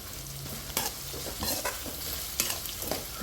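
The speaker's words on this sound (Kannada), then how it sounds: "ನೋಡಿ ಚೆನ್ನಾಗಿ ಈ ಥರ ಫ್ರೈ ಮಾಡ್ಕೊಳ್ಳಿ" Onion and curry leaves fry in a pan, a continuous sizzle broken by several sharp scrapes and knocks of a stirring spoon against the pan.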